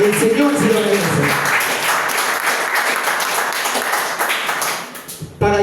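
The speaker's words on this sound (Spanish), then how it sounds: "Denle un fuerte aplauso porque el Señor se lo merece." A church congregation bursts into loud, sustained applause with a dense wash of clapping that fades out near the end, with a voice briefly over it at the start.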